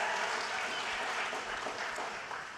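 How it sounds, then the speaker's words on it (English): An audience at a town hall in West Des Moines, Iowa claps together in a dense, steady burst of applause that fades slightly toward the end. "Can we give Brian and his wife Courtney a round of applause, please?"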